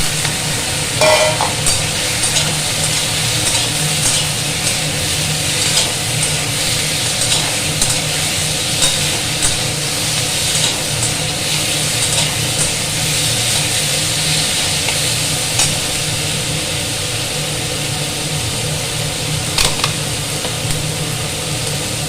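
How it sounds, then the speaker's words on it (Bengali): Tomatoes frying in a pan for a home-cooked curry: a steady, continuous sizzle with occasional stirring scrapes and light clinks, close and even throughout with no voices. "টমেটোগুলো একটু ভেজে এরপর দিয়ে দেবো আলু আর ডাঁটা"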